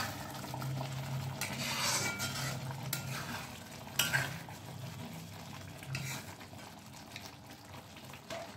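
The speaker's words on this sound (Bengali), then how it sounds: "ক্রিমটা ভালোভাবে মিশিয়ে দিচ্ছি।" A spoon stirs cream into methi malai chicken in a pan, soft scraping swirls over a gentle simmering sizzle, with a sharper clink of utensil against the pan now and then and no talking.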